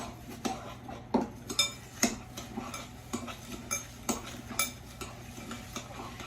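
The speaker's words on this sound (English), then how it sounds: "Just mix that all together so it's blended really good." Melted butter and sugar being stirred into graham cracker crumbs in a bowl, giving soft, irregular scraping and clinks of a utensil against the dish, quiet and close with no talking.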